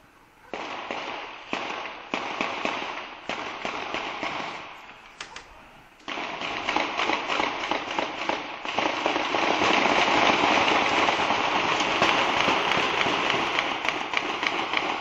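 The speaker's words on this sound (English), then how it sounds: "There's explosions and gunfire going on down the street." Rapid crackling bursts and pops keep going down the street at a distance near Boston, dense and unbroken after a brief lull, like sustained gunfire and small explosions from a police shootout with bombers.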